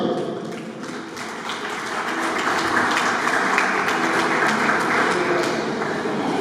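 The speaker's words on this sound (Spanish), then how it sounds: "Un fuerte aplauso para él." Steady crowd applause at a baptism celebration fills the space, a dense patter of many hands clapping at moderate loudness, with some talk mixed in.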